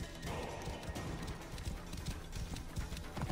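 Horse hooves clip-clop steadily at a brisk rhythm in Assassin's Creed Origins, continuous and fairly close, over a bed of ambient game sound.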